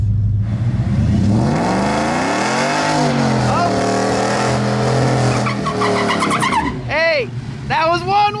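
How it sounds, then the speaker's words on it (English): A race truck in two-wheel drive on radial tires does a burnout with a single spinning wheel, the engine revving hard and rising in pitch for several seconds, then dropping off into short squealing tire chirps, with people shouting over it. "We're going to pull up in two-wheel drive and do our burnout"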